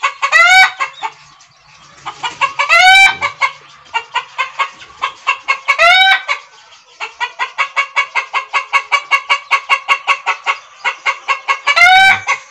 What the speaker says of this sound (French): Je vous montre des poulets africains qui sont là.